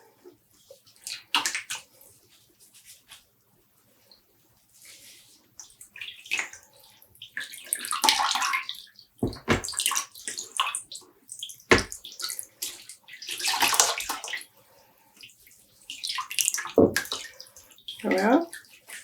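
Water squeezed by hand from freshly dyed self-striping yarn, coming as irregular wet splashes and drips in short bursts separated by pauses, close and fairly soft.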